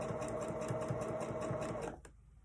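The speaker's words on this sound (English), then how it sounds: "stitching over a couple times on that entrance to the pocket right at the top" A sewing machine stitches a pocket opening on a cross body bag in a fast, steady whirring run, fairly quiet and close, then stops abruptly near the end.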